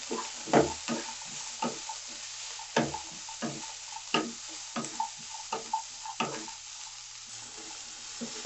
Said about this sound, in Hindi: मटर को 2 मिनट फ्राई कर लिए हैं